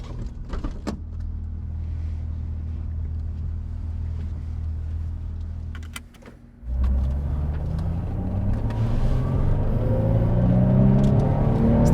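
A cheap sports car engine under $8,000 rumbles steadily at low revs, cuts out briefly, then roars back and rises in pitch as it accelerates, loud and close.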